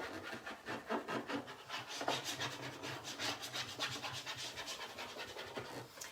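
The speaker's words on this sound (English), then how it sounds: "I'm just gonna go right over the flat surface first with my burnishing tool" A burnishing tool rubbed back and forth over a transfer on a flat trunk surface, giving a quiet, steady rhythmic scratching close up, with repeated strokes and no talking.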